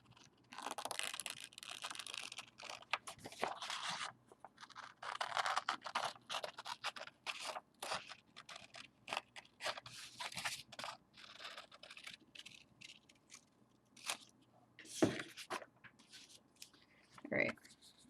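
Scissors snip through paper to cut out a pumpkin card made from a digital stamp and scraps, with a rapid run of close, irregular cuts and rustles. Faint talk sounds in the background.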